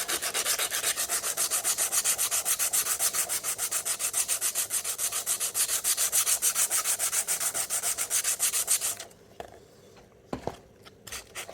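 Hand sanding with a sheet of sandpaper during repair of a faulty 3kW wind turbine motor used for an e-bike: fast, steady back-and-forth rasping strokes, loud and close, for about nine seconds, then stopping with a few scattered handling sounds.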